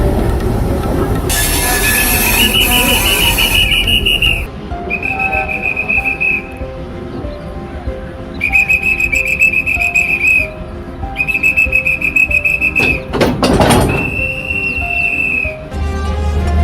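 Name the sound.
railway guard's whistle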